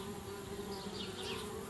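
Bees buzz in Anna's Quest, a steady, faint, close drone that holds unbroken throughout with no voices.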